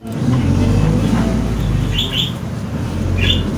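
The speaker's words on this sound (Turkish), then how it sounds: "güzel güzel dolmuş sesini atmış" Low rumbling engine drone of a minibus interior, steady and close, with a few faint high chirps over the top.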